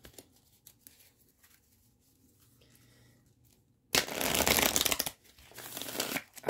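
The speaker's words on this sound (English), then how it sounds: "And move these cards out of the way, and we'll shuffle the deck back up." A deck of tarot cards is shuffled after a reading, heard as a sudden close burst of papery riffling and rustling following near-silence, pausing briefly before a second shorter burst.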